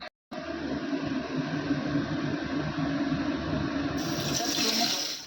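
Hilsa fish being washed under a running kitchen tap, a steady close rush of water that starts abruptly after a brief silence and brightens toward the end, no talking.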